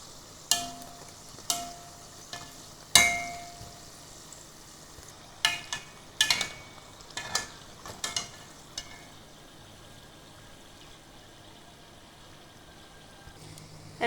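Food fries in oil over medium heat, a low steady sizzle punctuated by a handful of sharp clinks and scrapes from utensils early on, then settling into quiet frying alone.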